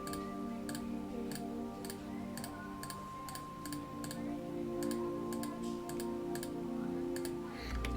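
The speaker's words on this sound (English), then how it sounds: "Gonna take some clicking." A computer mouse clicks repeatedly during vector drawing work in Affinity Designer, a steady series of sharp, dry clicks at a fairly even pace over a low background hum, with no talking.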